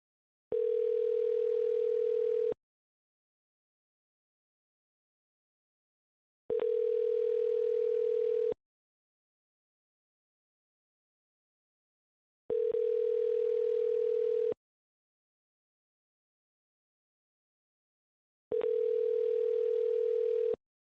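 Telephone dial tone sounds in four steady two-second bursts separated by about four seconds of silence, a clear, loud, unwavering tone with no voices over it.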